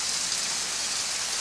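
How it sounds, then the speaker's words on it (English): Steady rain patters hard and evenly onto an outdoor cooking setup, a dense hiss of drops with no voices over it. "oh man, it started raining again"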